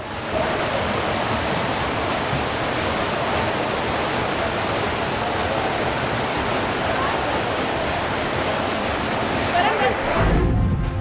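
Rushing floodwater from heavy rain sweeps a Wagon R car along, producing a loud, unbroken roar of churning water that carries on throughout with a brief change near the end.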